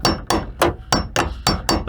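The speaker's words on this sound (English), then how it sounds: "I have a normal hammer. Give it medium hard taps," A normal hammer gives medium-hard taps to the metal fuel pump tank ring on a 2001-2009 Volvo S60/XC70: seven sharp, evenly spaced metallic knocks, close and loud, with no talking.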